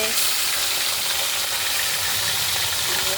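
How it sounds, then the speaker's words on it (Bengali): Fish frying in a pan of hot oil gives a loud, continuous sizzle and crackle, close and unbroken for the whole stretch, with no speech. "আর মাছ তো ভাজা করছি"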